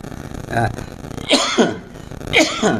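Someone coughs several times in quick, harsh bursts close to the microphone, mixed with talking.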